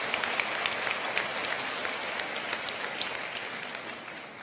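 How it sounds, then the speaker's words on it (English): Audience at a college commencement ceremony giving a big round of applause, a broad, even wash of clapping from many hands that holds steady and tapers slightly at the end. "Let's give them a big round of applause."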